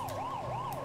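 A wailing police car siren from a Mitsubishi police car in the video game GTA 5 with the LSPDFR mod, sweeping up and down in a fast cycle, faint and steady, briefly heard alone.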